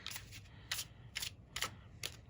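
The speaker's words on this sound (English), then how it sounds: "All right, just a few more shuffles." A deck of tarot cards being shuffled by hand in five quick, crisp riffles spaced evenly apart, close and clear with no speech.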